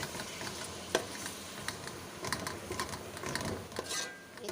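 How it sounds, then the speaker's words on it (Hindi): Minced meat sizzles and fries in a pan with ginger and garlic, with occasional scraping and stirring clinks over a constant crackling hiss. "अब हम अदरक लहसुन के साथ कीमे को अच्छी तरह से भून लेंगे।"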